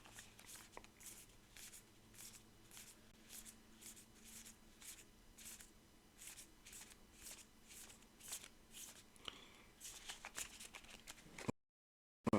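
Cards from a Massive Darkness 2 board game deck being flipped and shuffled through one by one, a quick rhythmic series of close, crisp flicks that stops abruptly near the end.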